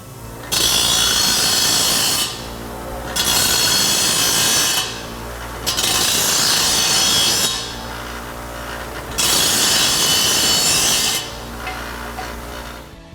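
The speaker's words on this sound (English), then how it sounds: "So I've got a grinder here. So we'll just turn it on, rotate it around" A handheld grinder deburring the cut edge of a steel exhaust pipe for a 2021-2022 Ford F-150: four loud, close bursts of harsh abrasive scraping, each about two seconds long, separated by brief lulls.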